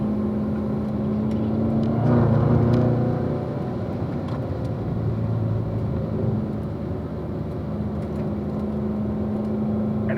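A race car powers out of a corner on a road circuit, its engine a steady, moderately close rumble that swells briefly as it accelerates and then settles, with no talk over it.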